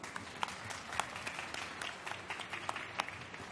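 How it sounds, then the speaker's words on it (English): Audience applause for a judge at a startup pitch battle event, a moderate round of clapping from a small crowd, fairly even throughout and slightly distant. "Another round of applause, please."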